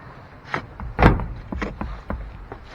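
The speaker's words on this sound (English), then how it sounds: "Door lift is still working." Mechanical clunks and a brief grinding whir from the window lift in the door of a 1957 Chevy truck left 57 years in a field, with a louder thump near the middle and scattered knocks after.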